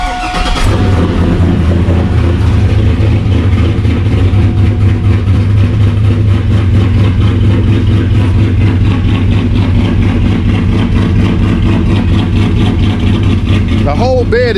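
Modified 2002 Chevrolet Silverado pickup idling close by with a loud, deep, lumpy rumble that holds steady throughout, with a voice talking over it.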